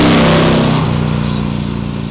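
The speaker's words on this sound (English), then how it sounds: "puts out one of the sweetest exhaust notes that I think I've heard in quite a long time" A deep, throaty V-twin exhaust from a Big Dog Pitbull cruiser motorcycle with a 117 cubic inch S&S engine and dual exhaust rumbles loudly and close by, its pitch settling lower after a brief rev.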